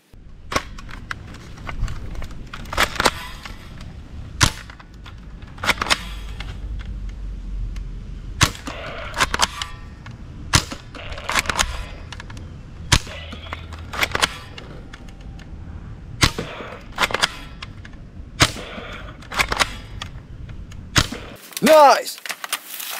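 Sniper rifle shots in a mobile shooter game ring out as about a dozen sharp, loud cracks spaced every second or two, with a short voiced exclamation near the end.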